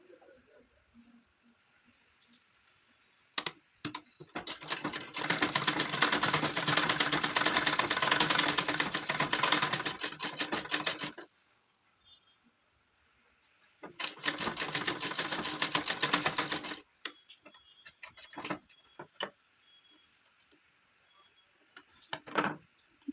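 A sewing machine stitches a gown for a three-year-old child in two sustained runs, the first about six seconds and the second shorter, with brief clicks and handling noise between, fairly quiet.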